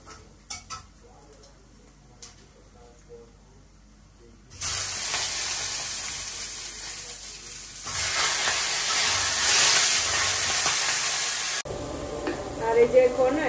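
Cleaned fish slides into hot oil already holding panch phoron and lentil fritters, setting off a sudden loud, steady sizzle that continues for several seconds after a few quiet clinks.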